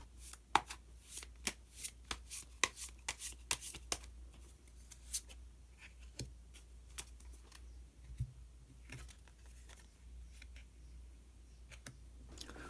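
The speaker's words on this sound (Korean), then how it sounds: "히든 카드를 한 장 더 뽑아보도록 하겠습니다" Tarot cards being handled and drawn from a deck, a run of crisp, close card snaps and slides in quick succession, then softer shuffling, quiet with no talk.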